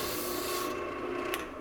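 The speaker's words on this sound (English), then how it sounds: "So here I'm just doing a little bit of sanding on the" Continuous close rubbing rasp of 220-grit sandpaper against a wooden bottle stopper spinning on a lathe at reduced speed, with a steady motor hum beneath, fading slightly at the end.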